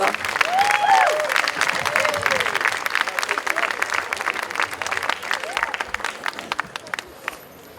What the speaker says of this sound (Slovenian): Aplavz za našega odličnega solista